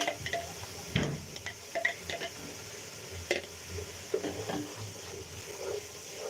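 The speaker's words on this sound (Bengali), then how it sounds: "পেঁয়াজ আর রসুনটা একটু কষিয়ে নেব সাথে একটু আদাও দিয়ে দিই" Onion, garlic and ginger fry in a pan for biryani meat, a soft sizzle broken by irregular stirring clatters and scrapes of a spoon against the pan.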